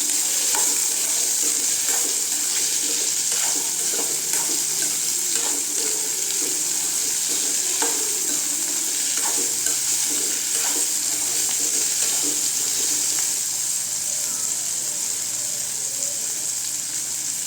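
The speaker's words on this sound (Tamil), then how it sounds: "அடுத்து மாங்காய் சேர்த்துக்கலாங்க எண்ணெயிலே நல்லா வதங்கிட்டு" Mango pieces and garlic sautéing in oil for pickle, a loud continuous close sizzle with repeated stirring scrapes and spoon clicks spread through the whole stretch.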